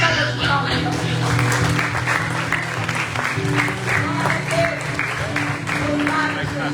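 A congregation applauding during a church service, a loud sustained round of clapping from many hands filling the room, with voices underneath.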